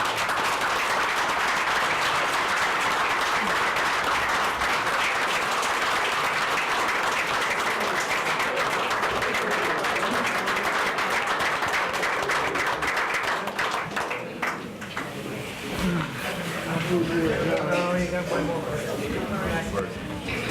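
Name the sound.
applause at a city council meeting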